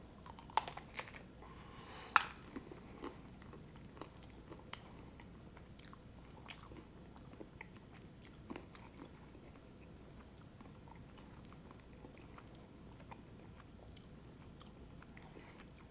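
Close, soft crunchy chewing and biting of milk chocolate and fresh strawberries, with small irregular clicks and crunches that are sharper in the opening seconds, then quieter steady mastication with no talking.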